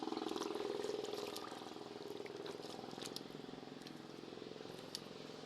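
A small river flows with a steady watery rush and trickle, fairly close and continuous throughout, with faint light crackles on top.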